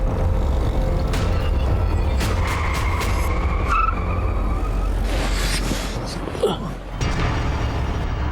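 A car drives at speed in a pursuit, one vehicle following another, with a loud steady engine roar and tyres skidding and squealing at moments, close and continuous throughout.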